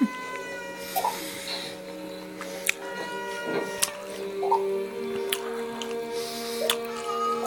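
Several meows from a household with four cats rise over a steady low indoor hum, with short squishy and dripping noises scattered between them and no talking.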